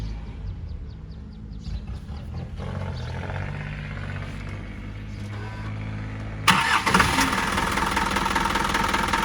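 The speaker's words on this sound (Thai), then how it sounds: "เครื่อง 4HG1 ถูกต้องแล้ว ร้อยสามสิบแรงแท้เลยนะครับ" Isuzu NPR130 six-wheel truck with a 4HG1 diesel engine running, a steady low idling rumble with clattering knock, then a sudden louder, harsher rise as the engine revs up near the end.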